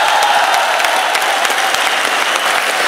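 An audience at a Hindi poetry recital claps steadily and densely, a loud, continuous wash of applause filling the space throughout.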